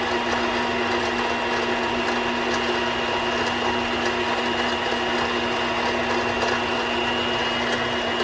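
A small lathe spins a bullet-casing earring while steel wool is held against it, giving a steady, loud mechanical whir with a faint scratchy hiss throughout.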